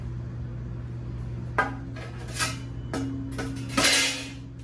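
A glass pint jar is set down into a metal pressure canner, producing several distinct clinks and knocks of glass against metal spaced over a few seconds, close up, over a steady low hum with no speech.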